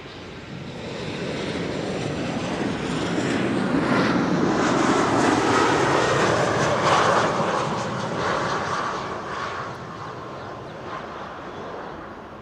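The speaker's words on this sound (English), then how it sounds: "One Cargolux is coming, the other is going." A Cargolux cargo jet at Amsterdam Schiphol Airport, a broad, steady engine roar that swells to a peak midway and then slowly fades, heard from a distance without talk.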